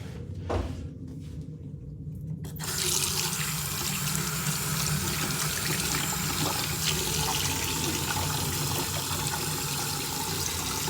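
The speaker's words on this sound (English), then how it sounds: "I gotta go wash my hands" Water from a kitchen sink tap rushes steadily while hands are washed, starting after a couple of seconds of quiet shuffling and then running continuously and fairly close.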